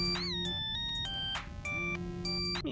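A phone rings in the Henry Stickmin Collection video game, a short electronic ringtone with repeating melodic tones and brief pauses between bursts, clean and alone with no talk.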